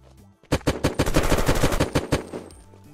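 A rapid burst of automatic gunfire from the survival video game Unturned fires about a dozen fast, evenly spaced shots at close range. It rings out loud and alone and then cuts off sharply.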